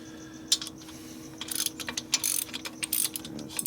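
A wrench ratcheting on the top end of a 1964 Harley-Davidson XL 900 Sportster ironhead engine, a quiet series of small clicking pawl strokes in short irregular bursts over a low steady background hum.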